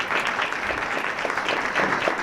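Sustained applause from a conference audience welcoming guests at an opening ceremony at Del State University, dense and continuous clapping from a large crowd with no voices over it.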